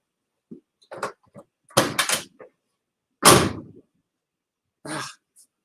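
A classic Ford Mustang door swings shut with a few solid, close thumps and clunks separated by short gaps, loud and otherwise quiet around them.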